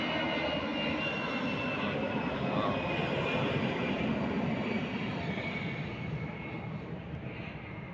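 Citilink airliner taking off from SMB II airport gives a steady, loud broadband jet roar that holds throughout and fades slightly at the end; no talking.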